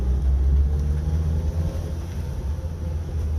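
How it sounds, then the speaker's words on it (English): A 4-cylinder van engine runs steadily while driving, a close, continuous low rumble that holds fairly even throughout with no voices over it. "It's running all 4 cylinders"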